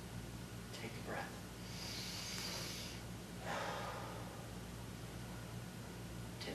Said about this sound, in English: Take another deep breath.